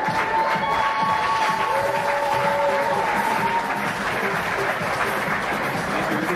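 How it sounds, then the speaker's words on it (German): A crowd at a 2012 German bodybuilding championship applauds and cheers steadily as the middleweight class takes the stage, a dense, loud wash of clapping with sustained tones running underneath. "Euer Applaus."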